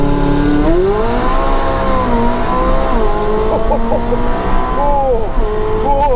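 A supercar engine held at high revs during a brake-boost launch, a loud, steady, close roar whose pitch climbs and wavers as the throttle is worked, with no other sound over it.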